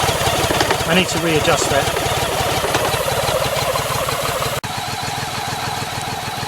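A BMW K75 motorcycle engine runs close and steady, bogging as the clutch is let out with the rear brake seized from sitting unused. Someone speaks briefly over the continuous engine drone.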